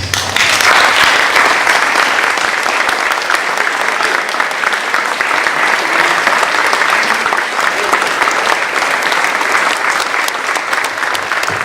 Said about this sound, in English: I really would like you to stand and give them a round of applause.